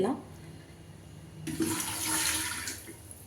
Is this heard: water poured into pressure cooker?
yes